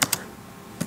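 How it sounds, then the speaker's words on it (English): Typing on a computer keyboard while entering commands in a Stata command window, a few quick close keystroke clicks at the start and another single tap near the end, with quiet between. "I am right now typing in the command window"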